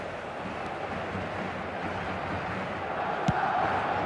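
Steady stadium crowd roar from an eFootball 2026 match, a broad continuous wash of distant voices with a brief thud near the end, swelling slightly louder toward the close.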